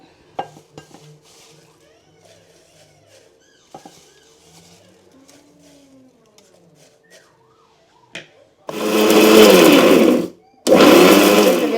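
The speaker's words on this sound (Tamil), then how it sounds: "வெந்தயத்தையும் இதையும் போட்டு நல்ல இப்படி ஒரு கொரகொரப்பான தன்மையில் அடிச்செடுத்தாச்சு" A mixer grinder coarsely grinding fenugreek and curry leaves whirs loudly in two short bursts near the end, separated by a brief pause, after quiet clinks and faint kitchen handling sounds.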